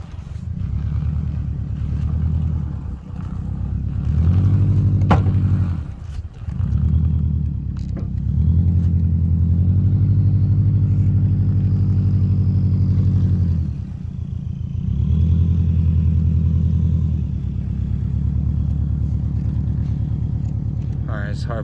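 A drift car crawls slowly over rough off-road ground, its engine a steady low rumble that swells and dips with throttle over about twenty seconds, heard close with a voice talking over it.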